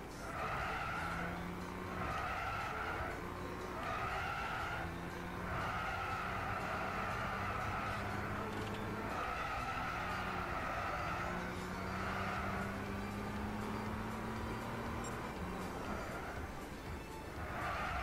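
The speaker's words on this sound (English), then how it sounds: "This is a insanely quick accelerating vehicle, I'll tell you that much." Race car engine from Gran Turismo 6 on PS3, a very quick-accelerating car in a race, revving steadily with rising and falling gear pitches and tire skids, loud and continuous for the whole stretch with no talk.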